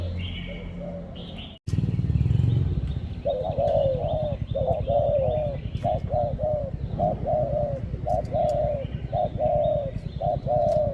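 Repeated soft, throaty dove coos in a steady rhythmic series, fairly close, over a low background rumble with faint chirps.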